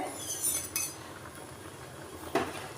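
A metal lid lifted off a pot of semolina sweets (Bengali kamalabhog) on a gas stove, giving a few faint, scattered clinks of metal on metal with a single sharper clink near the end, with no voices.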